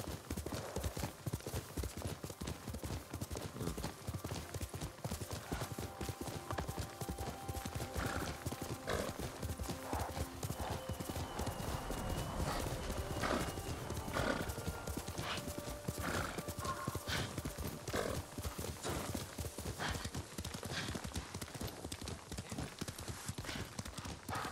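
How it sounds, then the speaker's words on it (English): A horse gallops with rapid, continuous hoofbeats and whinnies in the video game Ghost of Tsushima, staying loud and steady throughout. "Come on, horsey."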